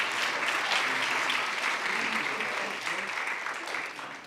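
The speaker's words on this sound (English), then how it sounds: "A big round of applause for the Rangers." An audience at a school district board of trustees meeting applauds for the Rangers, a sustained, full round of clapping from a room full of people that tapers slightly toward the end.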